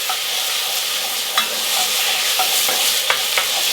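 Tomato paste frying in extra oil at the bottom of a pot, a steady close sizzle and hiss with a few brief scraping stirs of a spoon, no voices over it.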